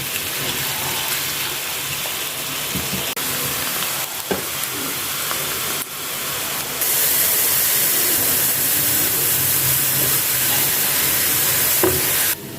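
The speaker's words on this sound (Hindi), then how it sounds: "तब तक भूनेंगे जब तक हमारा प्याज ब्राउन ना हो जाए।" Onions frying in oil in a pan until browned for chicken curry, a steady loud sizzle and crackle throughout, with occasional stirring scrapes and no talking.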